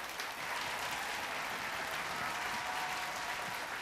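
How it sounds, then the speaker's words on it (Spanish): An audience claps for live performers, a steady wash of applause that stays fairly faint and even throughout, with no clear voices over it. "Fuerte la palma para ellos"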